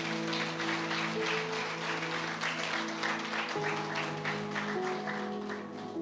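Congregation applauding at a Catholic preacher's service on fasting, a steady continuous wash of clapping over sustained music for several seconds.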